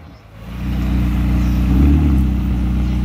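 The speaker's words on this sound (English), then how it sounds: "Revving one time?" McLaren sports car at a McLaren owners' meet, its engine revved once. The exhaust rumbles low and loud and close, swelling after a brief quiet start and holding a sustained throaty drone to the end. No one talks.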